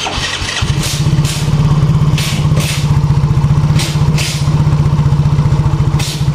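A Yamaha X-Ride motorcycle engine cranks and catches, then settles into a steady, loud, close-up idle with an even, rapid thumping pulse and mechanical clatter, with no talking.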